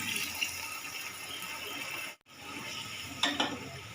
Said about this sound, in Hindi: अब मैं इसके अंदर जो मैंने आपके सामने यखनी तैयार की है वो शामिल कर रही हूँ।